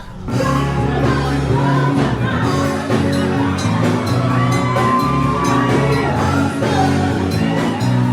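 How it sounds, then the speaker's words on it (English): Loud, amplified music fills a karaoke session on a Norwegian Spirit cruise ship as kids scream songs, with shouting and whooping voices over a steady backing track. "There's karaoke going on, but it's literally just a bunch of kids just screaming songs"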